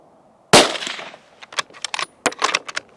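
A single loud suppressed shot from a Steyr Breeze CLII carbon fibre bolt-action rifle firing a 168 grain Barnes TTSX bullet, a sharp crack with a short decaying tail, followed by a few light clicks and handling sounds.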